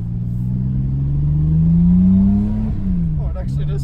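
A 160-horsepower Toyota MK2 Supra accelerates, its steady engine drone rising in pitch and swelling louder, then dropping back as it shifts, heard from inside the car with a faint voice near the end.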